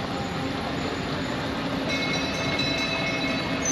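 A train passes close by near a resort in Bogura, Bangladesh, its steady broadband rumble and rolling wheel noise filling the whole stretch at an even, loud level, with faint high squeals joining partway through.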